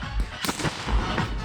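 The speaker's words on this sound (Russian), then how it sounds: "хороший фейерверк." New Year fireworks bursting at night on a city street, a quick series of sharp cracks and pops at varied distances over a steady rumbling background, fairly loud, with no speech.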